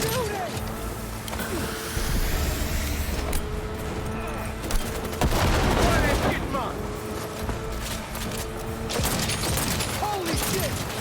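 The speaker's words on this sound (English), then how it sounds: "He's shooting!" Gunfire and explosive booms from a firefight in the video game Cyberpunk 2077 on Very Hard difficulty, dense and continuous with sharp bursts, rumbling blasts and vehicle noise, while voices shout over the action.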